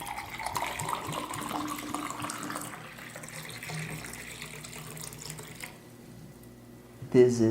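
Water is poured for drinking, a steady running, splashing stream that continues for several seconds with a person talking over it, ending in a brief louder splash.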